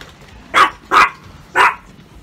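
A dog gives three sharp, loud barks close by in quick succession, with brief pauses between them and a quiet background.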